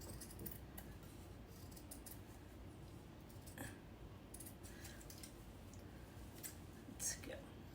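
Scissors snipping quietly through white felt to cut out a bunny head, soft close scattered clicks with faint whispering.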